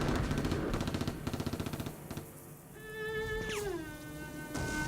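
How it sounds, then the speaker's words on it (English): Distant battlefield gunfire with rapid machine gun bursts, a rattling stream of shots that gives way to a long descending whine and a low rumble, moderately faint and without voices. "The roar of gunfire in the distance had started"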